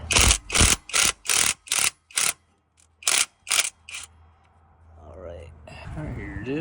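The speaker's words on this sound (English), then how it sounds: "Now with the fan off, I can actually get here with an impact." Impact wrench working on a Dodge 4.7 V8 engine during a water pump replacement, loud rapid hammering bursts in a rhythmic series, then someone talking.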